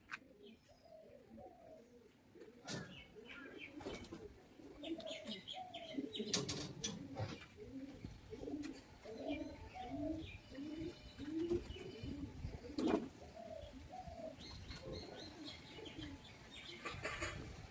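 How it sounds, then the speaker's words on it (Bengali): A pair of wild pigeons coo in a repeated, rhythmic series of low, rolling calls, faint and steady across the stretch, with a little chirping and flutter around them. "বুনো পায়রাটা জোড়া রেখে দিয়েছি"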